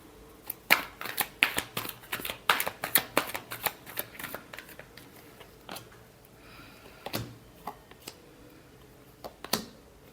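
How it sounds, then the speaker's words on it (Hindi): Tarot cards shuffled close by, a dense burst of papery riffles and snaps in the first few seconds, then sparser, quieter flicks and taps with pauses between. "Last shuffle."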